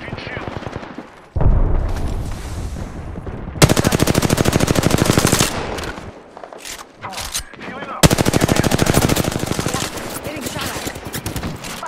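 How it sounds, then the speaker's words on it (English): Loud, rapid automatic gunfire from the Apex Legends video game rattles in long bursts with short pauses between them, close and dominant over a faint background. "Getting shot at."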